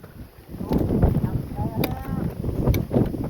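Wind gusting outdoors on a sunny, breezy day, a steady rushing buffet against the microphone that stays loud throughout while people talk over it nearby.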